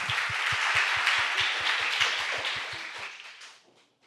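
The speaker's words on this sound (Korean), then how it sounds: "네, 큰 박수 부탁드립니다." Audience applause at a Korean student campaign-planning competition, a dense wash of many hands clapping steadily with a loud rhythmic thump under it, fading out toward the end.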